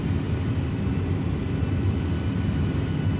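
Steady, loud broadband roar of Airbus A300 jet engines during an approach into Tokyo Haneda in Microsoft Flight Simulator 2020, a constant drone with no talk over it.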